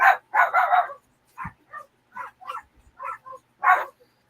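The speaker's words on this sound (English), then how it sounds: "the dogs are going crazy" Several dogs barking in short, sharp bursts, a cluster of loud barks up close followed by scattered yips and smaller barks, during a hurricane.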